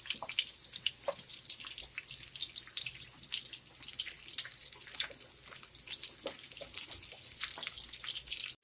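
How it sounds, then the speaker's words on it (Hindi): Finely chopped onions fry in hot oil, a steady crackling sizzle with dense bursts of popping and spitting throughout, close and fairly loud, with no talking. "ये प्याज है तो हम फ्राई कर लेते हैं।"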